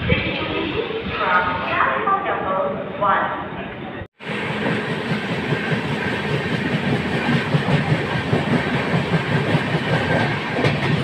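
Himsagar Express long-distance passenger train rolling along the track, with steady rhythmic clickety-clack and rumbling wagon noise throughout, briefly cut off midway, with a voice talking over it early on.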